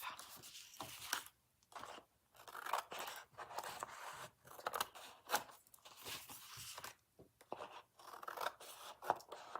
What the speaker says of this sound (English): I'm going to trim these with my scissors